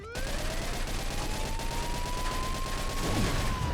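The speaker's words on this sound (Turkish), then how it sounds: "Nasıl patlıyordu bu arabalar ya?" In the Mafia 2 video game, gunfire hammers at a car in a dense, steady burst of shots under a continuous rising drone, with no clear final blast.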